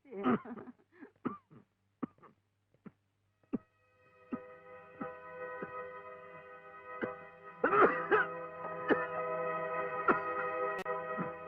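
A man in a Tamil film scene coughs in a string of short, harsh bursts, after which a sustained musical tone rises beneath a few more faint knocks.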